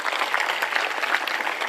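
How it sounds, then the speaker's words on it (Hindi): Steady applause from a lecture audience, dense continuous clapping at moderate loudness, heard alone with no talk for under two seconds. "जब हमें एक बार ताली बजाओ।"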